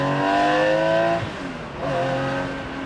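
Gunther Werks 993 Speedster, a Porsche 993-based car, heard from the driving seat with a loud, rich engine note whose pitch climbs, drops sharply at a gear change, then rises again under steady acceleration.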